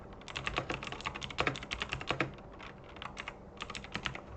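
Rapid, uneven clatter of keys on a computer keyboard, close and fairly quiet, with bursts and brief pauses throughout and no talking.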